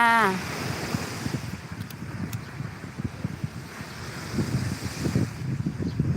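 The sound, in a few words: sea waves and wind at Saeng Chan beach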